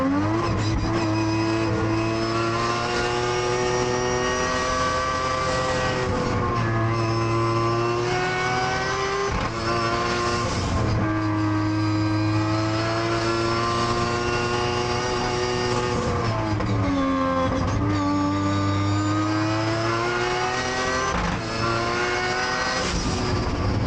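Mazda RX-7 race car climbing Pikes Peak, its engine screaming loud and close throughout, with repeated rises in pitch under acceleration and brief drops as gears shift or the throttle lifts.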